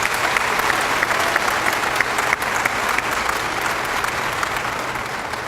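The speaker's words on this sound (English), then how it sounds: "Let's give them all a great round of applause for their work." Audience applauding scholarship students at a signing ceremony, loud sustained clapping from a sizable crowd, even and continuous throughout.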